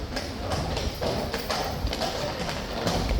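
Hooves of cavalry troop horses clip-clop steadily on the parade ground at the King's Guard changeover at Horse Guards, a continuous close, busy rhythm of many hoofbeats with crowd murmur beneath.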